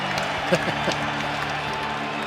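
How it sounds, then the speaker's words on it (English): A hockey arena crowd rumbles in a steady din, with a slight lift of cheering at a penalty call during a Carolina Hurricanes versus Edmonton Oilers NHL game. Commentators talk over it. "There might be an extra cheer from the crowd, a little bit loud on a penalty call."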